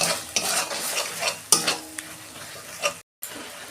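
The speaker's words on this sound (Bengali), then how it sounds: "আমি এবার তেল ছাড়া পর্যন্ত কষাবো, যতক্ষণ না তেল ছাড়ে।" A spice paste of ground coriander and cumin stir-fried in oil, with scraping spoon strokes and clatter over a bubbling sizzle, then a brief silent gap before the frying resumes.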